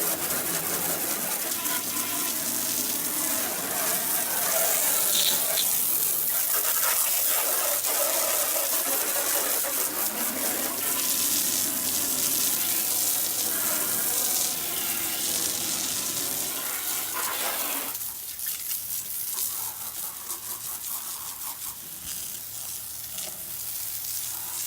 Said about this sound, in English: now I'm going to try to hose it off